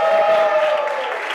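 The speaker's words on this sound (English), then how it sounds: "Let's give a round of applause for the bar staff." A live audience applauds the bar staff at a party event: a short, steady burst of crowd clapping with a sustained musical tone running beneath it.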